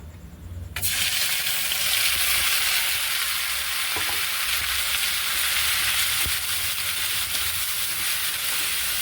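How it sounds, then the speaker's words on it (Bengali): Loud, steady sizzling of a spice paste hitting hot oil with fried dried chillies and nigella seeds, a bright hiss that starts abruptly and continues unbroken, with a few faint clinks. "শুকনো লঙ্কা আর কালো জিরে ভালো করে ভাজা হয়ে গেছে। এবারে দিয়ে দিচ্ছি এই যে বাটাটা।"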